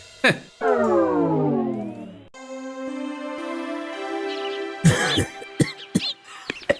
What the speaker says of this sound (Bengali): আপনার তো দেখছি ভালোই কাশি হয়েছে।